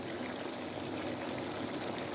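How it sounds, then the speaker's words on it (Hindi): Ground yogurt is poured into a beef karahi, making a steady, close wet sizzle and rushing sound with no break and no voices. "साथ में हम डालेंगे ग्राइंड हुआ दही"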